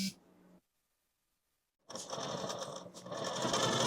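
A sewing machine double-stitching the puff sleeve of a kurti: a short burst of stitching, a pause of near silence, then a longer steady run of whirring stitches.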